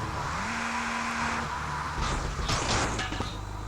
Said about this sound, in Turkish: Çok kayıyor lan araba